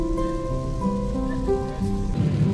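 Monsoon rain falls during a trip along the Konkan coast toward Goa, a steady close patter and hiss running throughout beneath sustained tonal hums.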